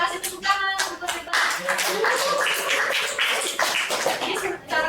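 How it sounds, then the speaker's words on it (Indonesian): A group of students and a teacher clap together in a classroom after a science activity. The clapping is quick, close and uneven, mixed with a few voices. "Oke, kita kasih tepuk tangan untuk kita."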